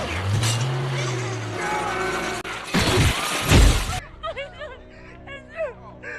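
A large glass pane crashes down and shatters in a film scene, a loud bright burst of breaking glass followed by scattered tinkling shards and fainter clinks as the debris settles.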